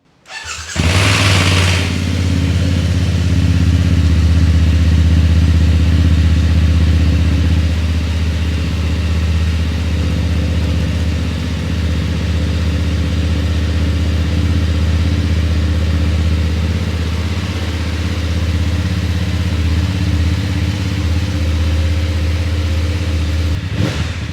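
A BMW motorcycle engine in a showroom starts up and holds a deep, loud, throbbing idle for the whole stretch, with slight rises in revving, close by and alone.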